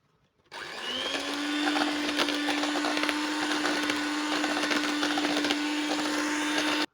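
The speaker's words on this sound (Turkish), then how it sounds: "Kıvamına bakacağız koyuluğuna. Ve çırpalım." Cake batter for a walnut loaf cake being beaten with an electric mixer, a steady loud motor whir with a constant hum that starts abruptly and runs unbroken for several seconds, ending suddenly.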